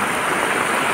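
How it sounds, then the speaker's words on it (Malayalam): Heavy rain, strong enough to threaten flooding, falling at Kureepuzha: a dense, continuous patter and wash of drops on surfaces, loud and unbroken throughout. "വെള്ളപ്പൊക്കം പ്രതീക്ഷിക്കാവുന്ന തരത്തിലുള്ള മഴയാണ് ഇവിടെ ഉണ്ടായിക്കൊണ്ടിരിക്കുന്നത്."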